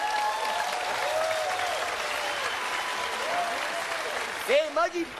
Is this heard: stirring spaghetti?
no